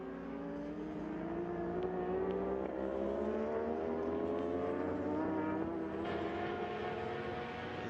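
Ducati Panigale superbikes racing at Vallelunga, engines heard from a distance as a steady droning roar with rising pitch as they accelerate, faint and continuous with no talk.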